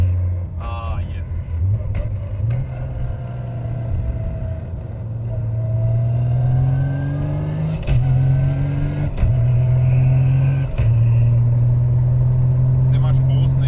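Car fitted with a noisy straight-cut sequential racing gearbox driving and revving, a steady droning engine note that climbs and drops with quick shifts, heard from inside the car under a voice talking.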